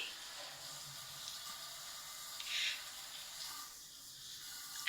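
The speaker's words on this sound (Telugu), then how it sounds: "ఇప్పుడు మనం ఎండుమిర్చి తీసుకొని ఎండుమిర్చిని కూడా కొంచెం వేయించాలి" Dried red chillies frying in oil make a low, steady sizzle with a brief hissing flare partway through.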